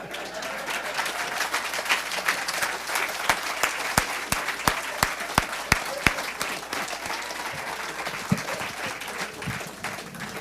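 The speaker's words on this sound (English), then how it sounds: "Mr. Ned, you get a standing ovation" A crowd gives Mr. Ned a standing ovation at a live ballroom event at Queens Park Oval, with sustained applause throughout and several sharp, close handclaps standing out partway through.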